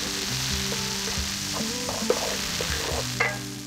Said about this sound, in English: Now we're just going to fry off our curry paste at this stage to start developing those flavours.